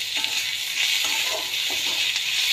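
Tomato goes into hot oil with curry leaves, garlic, fenugreek and dried chillies, giving a steady, loud bright sizzle that runs the whole time with a few soft stirring knocks.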